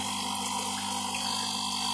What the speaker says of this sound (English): So I'll go around while these reservoirs are filling up.